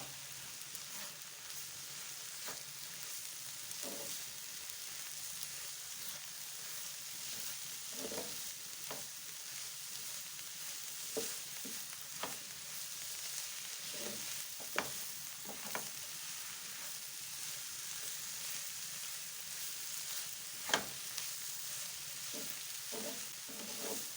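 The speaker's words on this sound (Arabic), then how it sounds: "وغنخلطو الكل جيدا." A spoon stirs and mixes a runny, no-knead batter for a family-size flatbread in a bowl, giving steady soft scraping and wet swishing with occasional sharper taps against the bowl. No one speaks.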